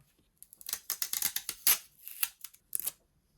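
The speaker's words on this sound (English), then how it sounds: "we're going to remove this sticker" A protective plastic sticker is peeled off a portable projector, producing a close series of sharp crackling rips and snaps in uneven bursts over about three seconds.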